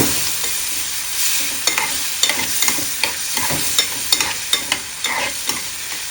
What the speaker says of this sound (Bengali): এবার আমি অ্যাড করে দেবো আমার সিদ্ধ করে ছেলে রাখা আলু একটু কষিয়ে নেব